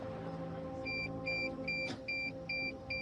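Beeping from a drone that cannot connect: a steady train of short, evenly spaced electronic tones, about six in a row, over a constant low hum, with a brief click in the middle.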